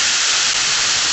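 Marinated beef slices hit a hot pan for a ginger noodle stir-fry, giving a loud, steady, close hiss of sizzling with no talk.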